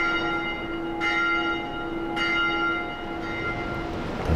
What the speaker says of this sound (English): That is the call of the bellhead!